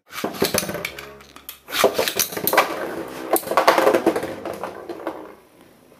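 Metal-masters Beyblade spinning tops clash and rattle in a stadium, giving sharp metallic clinks and scraping bursts in irregular clusters. The sound is close and loud, then thins to faint whirring at the end, with no talk.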